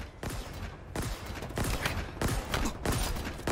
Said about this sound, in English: It's a shotgun, like a revolver.